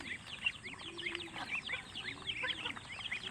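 Young chickens, chicks and ducklings feeding on leftover scraps keep up a busy chorus of overlapping high cheeps and clucks, fairly close and continuous without any talk.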